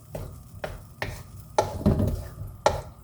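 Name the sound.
stirring vegan chicken korma with plant-based meat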